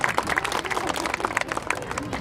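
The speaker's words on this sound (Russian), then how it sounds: "Аплодисменты, аплодисменты, друзья." Audience claps in a lively, uneven patter, with a voice talking over the clapping.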